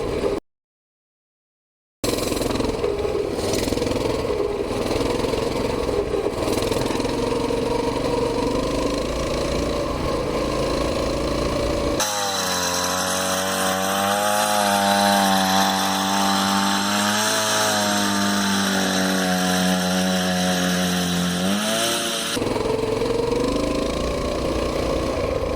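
A Coleman BT200X mini bike's small engine drones steadily, then revs up and holds a higher, wavering pitch before settling back down, loud and close with no voices.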